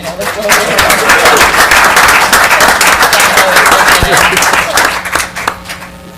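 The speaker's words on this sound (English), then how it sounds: "Okay, one last round of applause." Audience applause at a borough council meeting, a dense round of clapping from a room of people, steady and loud for about five seconds before thinning out and tapering off near the end.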